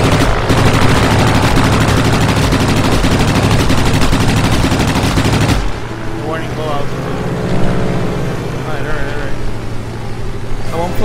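Rapid aircraft machine-gun fire from a plane in World of Warplanes, a loud dense stream over engine roar that cuts off midway, leaving the engine drone with a voice speaking over it.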